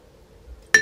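A single sharp clink of a spoon against a glass jar while yogurt is added for homemade ayran, heard once near the end after near silence.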